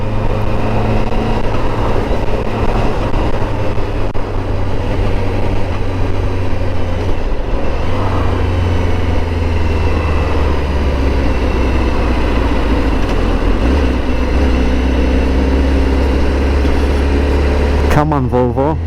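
A Honda CBR1000RR-R Fireblade SP motorcycle fitted with an Akrapovic exhaust rumbles steadily and close on a test ride, a continuous low engine drone with shifting pitch and a burst of wind noise at the very end.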